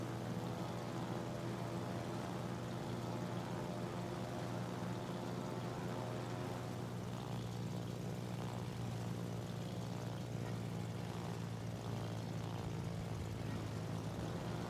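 Carrier planes in World of Warships give off a steady, unbroken propeller-engine drone. It is constant and moderately faint, with a humming tonal buzz that never lets up.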